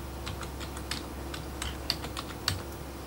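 Someone types a new folder name on a computer keyboard, producing a quiet, irregular run of light key clicks with a few sharper taps over low steady background hum.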